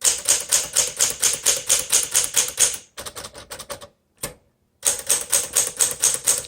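Keys of a 1964 Smith Corona Sterling manual typewriter struck in a steady run of crisp, loud clacks, with a brief pause and a few scattered strikes before the even typing resumes.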